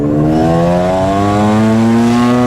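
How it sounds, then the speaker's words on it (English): A Mazda RX-7 FD's rotary engine revs loud and close, a steady buzzing drone whose pitch climbs smoothly through a single sustained pull with no talk over it. "That is the thing with these rotaries, they just sound like nothing else."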